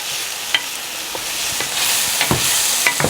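Pork loin filet fries in a pan over medium heat, a steady close sizzle throughout with a few light scraping stirs and utensil taps, no voices.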